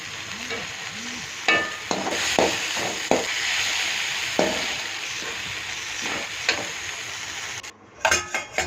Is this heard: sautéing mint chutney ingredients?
yes